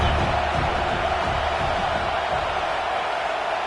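Home crowd at a college football game roaring steadily as the defense pins the opponent deep in their own end, a dense, sustained wash of cheering noise without clear breaks.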